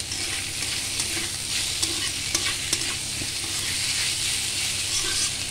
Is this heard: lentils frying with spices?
yes